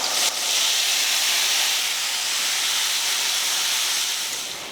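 Mustard seeds and cumin sputter in hot oil in a kadai, a dense, steady sizzling hiss that runs throughout and fades slightly toward the end.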